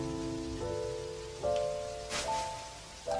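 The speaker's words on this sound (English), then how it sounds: "I mean, it's raining." Steady rain patters in a rainy area of the video game Anode Heart, a soft constant hiss beneath louder chiming game music notes.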